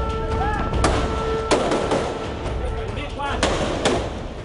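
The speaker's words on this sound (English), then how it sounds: "The fighting between the gangs and the police there is almost continuous. These are massive firefights." Gunfire during a firefight between gangs and police in Rio de Janeiro: several sharp cracking shots at irregular intervals over steady background noise, with people talking in the background.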